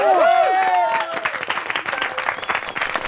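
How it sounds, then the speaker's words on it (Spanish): A group of campers at a summer camp spaghetti challenge breaks into applause and cheering after a shouted, pitch-sliding voice at the start, with energetic clapping and crowd noise filling the rest. "¡Felicidades y un fuerte aplauso!"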